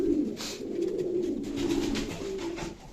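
Pigeons coo softly in low, rolling murmurs, continuous and fairly close, with faint rustling in the background.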